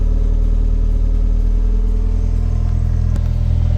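A car fitted with a K24 engine, put in gear with the clutch let out, gives a loud, steady close-up engine drone with a low rumbling hum and slight rev changes.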